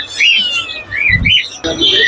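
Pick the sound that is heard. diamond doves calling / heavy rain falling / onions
diamond doves calling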